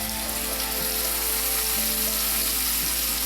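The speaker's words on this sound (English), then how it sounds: "And that's the exact sound that you want to hear when you put your steak in the oil. You want to hear that sizzle." A steak sizzles loudly and steadily in hot canola oil in a cast iron pan, a close, continuous crackling hiss with no pauses.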